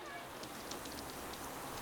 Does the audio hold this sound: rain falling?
yes